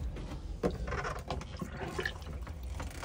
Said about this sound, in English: which will pump around the flush fluid, assuming that you've got the pump switched on